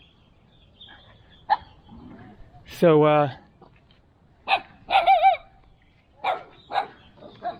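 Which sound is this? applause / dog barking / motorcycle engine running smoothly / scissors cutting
dog barking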